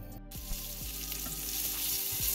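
Asparagus stir-fries in oil in a kadai with a loud, continuous close-up sizzle, punctuated by a few soft scrapes and knocks of stirring against the pan.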